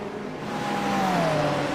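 A loud GT3 race car engine in an onboard view of a sim racing game at Long Beach screams at high revs, its pitch climbing and then easing as it shifts, close and alone.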